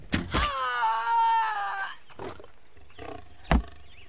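A lion roars in the survival video game Hold Your Own, one loud drawn-out groaning roar close by, followed by quieter rustles and a sharp thud.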